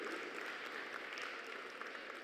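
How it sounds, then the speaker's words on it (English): An indoor audience at a digital identity and development session applauding members of parliament, with a steady, faint wash of clapping throughout, no speech. "please, give me a round of applause to the members of parliament who took the time to be here"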